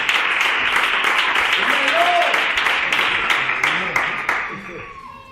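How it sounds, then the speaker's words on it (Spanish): Applause from a church congregation honoring the word of the Lord during a service: sustained clapping with sharp individual claps standing out, gradually thinning and fading toward the end, with a voice speaking faintly over it. "Vamos a dar un aplauso a la palabra del Señor"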